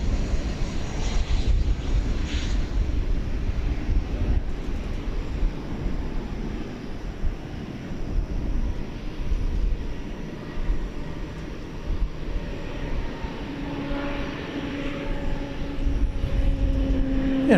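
An American Airlines Airbus A321 arriving at DFW Airport at night from Salt Lake City, its jet engines a sustained broad roar, fairly loud and steady, with a rising whine toward the end.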